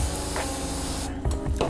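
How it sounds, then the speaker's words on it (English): A spray bottle hisses in a long steady mist of water over a beetle enclosure, followed by a couple of quick, short spritzes close up. "you're just going to spray their enclosure lightly with water"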